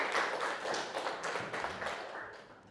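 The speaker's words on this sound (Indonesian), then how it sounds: "Tepuk tangan semuanya." Audience clapping after a classroom demonstration of Archimedes' principle, a short burst of brisk, fairly close claps that thins out over about three seconds.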